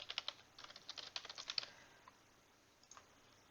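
Quick bursts of clicky keystrokes on a computer keyboard as a password is typed, a dense run of taps followed by a pause and a few scattered final presses, close and fairly quiet with no talking.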